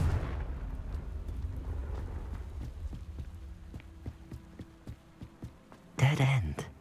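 Confringo explosive spell blast in the Hogwarts Legacy video game, a single loud burst near the end that follows a stretch of quieter rumbling and scattered soft impacts.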